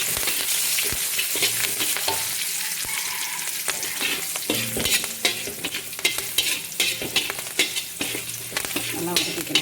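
Green and dry chilies sautéing in a pan give a loud, continuous sizzle with frequent crackles and pops, joined by irregular scraping and knocking of a spoon stirring close up, with no talk.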